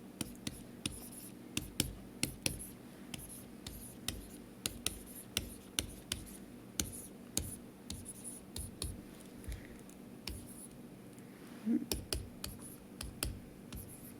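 Someone writes out a metric conversion line for a chemistry calculation, producing quiet, close taps and scratches in an irregular rhythm of short strokes, with no talking.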